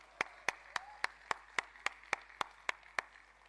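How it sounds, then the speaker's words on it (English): Audience applause at a Filecoin keynote in Bangalore: about a dozen sharp, evenly spaced claps at a brisk pace, fairly quiet, with no voices. "huge round of applause for huddle."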